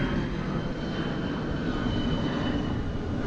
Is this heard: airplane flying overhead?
yes